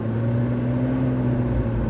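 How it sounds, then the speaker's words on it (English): A 2012 McLaren MP4-12C Spider with a 3.8-litre engine gives a steady, loud droning hum heard from inside the car, holding an even pitch for a couple of seconds without talking. "I'll just give the McLaren a quick bomb here."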